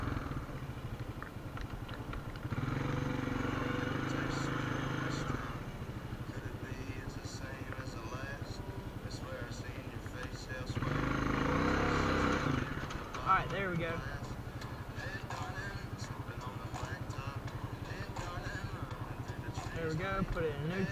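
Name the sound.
four-wheeler ATV engine running near a creek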